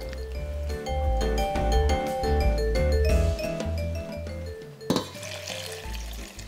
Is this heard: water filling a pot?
yes